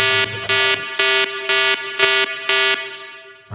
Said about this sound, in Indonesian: alarm akan menyala di sini